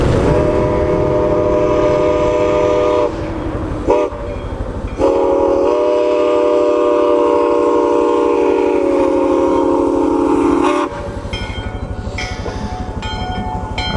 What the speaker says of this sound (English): we'll try to swing by and get that train going by